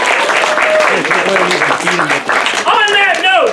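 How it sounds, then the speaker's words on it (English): Crowd applause at a sword swallowing show at a fair, loud and continuous, with someone talking over the clapping near the end. "Give yourselves a round of applause."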